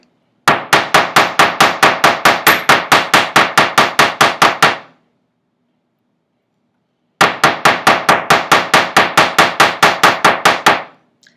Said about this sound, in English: I can even hammer this part if I want to go the other way.